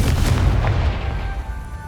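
A Confringo spell explosion in Hogwarts Legacy lands as one loud, deep boom that rolls and fades over about two seconds.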